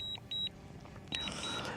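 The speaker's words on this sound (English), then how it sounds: "Sorry for the beeping, but there's no way of getting rid of that noise." A DJI drone controller beeps during return to home, three or four short high electronic tones in quick succession, clear and close over faint background rumble.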